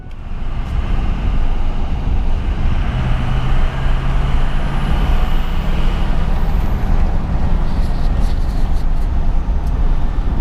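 A 2005 Ford F350 pickup with the 6.0 diesel, fresh from IPR and injector replacement, drives along with a steady loud engine and road rumble throughout, with a faint tonal whine appearing midway.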